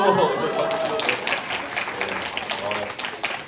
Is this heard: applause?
yes